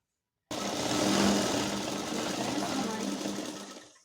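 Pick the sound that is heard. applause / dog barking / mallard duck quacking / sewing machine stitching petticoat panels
sewing machine stitching petticoat panels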